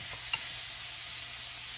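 Steady frying sizzle of pork and bean sprouts in a pan with broth added, soft and continuous, with one brief clink of a utensil early on.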